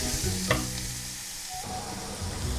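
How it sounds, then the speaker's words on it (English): Garlic and assorted vegetables stir-fry in a pan with a loud continuous sizzle, broken by a scraping stir and a shift in the hiss midway, close up with no talking. "I'm gonna fry my garlic with the assortment of vegetables."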